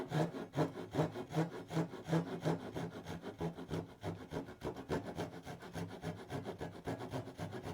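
A hand saw cuts wood for turned legs in quick, even back-and-forth strokes, a close rhythmic rasp that repeats steadily throughout.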